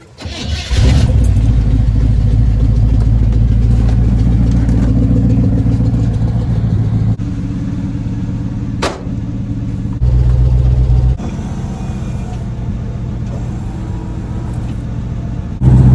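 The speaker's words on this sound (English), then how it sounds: "I guess I'll fire this thing up so the battery charges while we're doing this." A 1974 Chevrolet square body truck fitted with a snow plow cranks and fires up, then settles into a loud, steady, rumbling idle close by, with brief shifts in engine speed.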